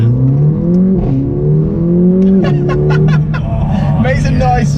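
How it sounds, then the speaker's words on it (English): A 2-litre Audi S3 engine pulls hard, its rising drone audible from inside the car through an open window, with people talking and laughing over it throughout. "It does make a good noise. And it's only only a 2-litre engine."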